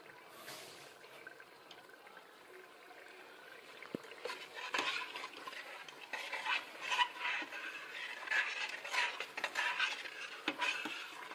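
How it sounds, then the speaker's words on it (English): Spaghetti sauce with sausages is stirred in a pot, with soft wet scraping and intermittent clinks of a utensil against the pot rising and falling at close range, over a faint simmer. "Just make sure you stir consistently so the sauce doesn't burn"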